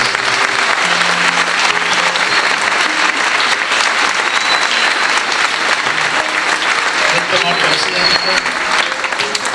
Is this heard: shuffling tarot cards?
no